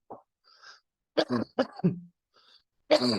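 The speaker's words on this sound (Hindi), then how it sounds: "मुझे एक्चुअली ना खांसी लग गई है" A person coughs several times in short, harsh bursts, with a throat-clearing sound between them, close and otherwise quiet.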